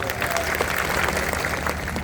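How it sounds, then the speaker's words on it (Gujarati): An audience at an outdoor public rally claps in a dense, steady burst of applause, with crowd noise underneath, all through the short moment. "એકવાર જોરદાર આપણે તાળીઓ પાડી લઈશું"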